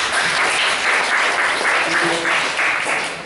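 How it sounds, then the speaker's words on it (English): Loud, dense applause from an audience at an investor event, filling the room steadily for a few seconds before starting to fade. "give an applause to Peng."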